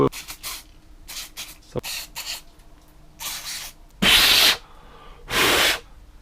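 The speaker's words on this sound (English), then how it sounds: "To clean out the plugs, we're gonna use brake clean." Brake cleaner sprayed from an aerosol can onto motorcycle oil drain plugs during a supermoto oil change, heard as two loud hissing bursts of about half a second and one second, following softer rubbing and handling noises.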